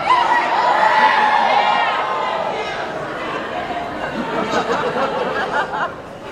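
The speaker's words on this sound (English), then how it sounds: "or are you just yelling because it's time to yell?" At a cosplay competition, a convention audience yells and cheers loudly, a dense crowd roar with shouts and laughter that gradually settles into lively chatter.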